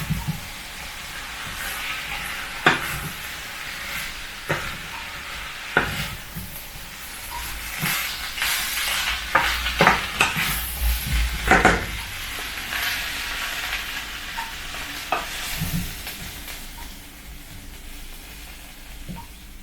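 Pork, green onion and ground pepper sizzle and crackle in a hot pan, with a steady frying hiss, occasional sharp stirring clinks and scrapes, close and moderately loud, no voices.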